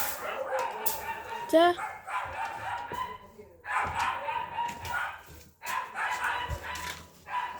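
Several dogs bark and yip in short bursts amid voices, with a brief whimpering squeal partway through; the barking sounds moderately close.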